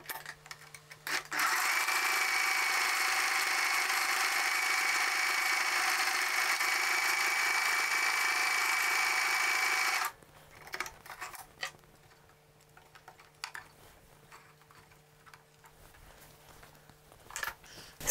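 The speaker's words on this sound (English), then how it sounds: "my sewing machine cannot reach this, so I will do just a little bit lower" A sewing machine stitches buttonholes on a polo shirt, running in a steady loud whir for about ten seconds before stopping, followed by quieter handling noises.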